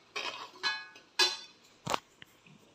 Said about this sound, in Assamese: এয়া পিঠাগুড়িখিনি অলপ দেৰি ভাজি লৈছোঁ।